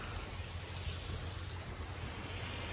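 A steady, broad wash of Maldives ocean surf rumbles continuously, with wind buffeting the microphone and no voices.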